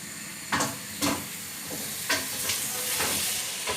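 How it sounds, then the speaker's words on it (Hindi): One kilogram of washed meat frying in a pressure cooker sizzles steadily, with a few sharp stirring scrapes and knocks breaking through the hiss at irregular intervals. "ये जो 1 किलो गोश्त धोया था वो कुकर में डाल दिया और अब हम इसको भूनेंगे"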